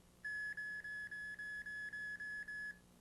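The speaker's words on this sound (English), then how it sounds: "This alarm will tell you when they're nearby." A radar detector alarm on a sailboat sounds a rapid run of about nine identical high electronic beeps, evenly spaced and clean, fairly quiet and alone over a low hum.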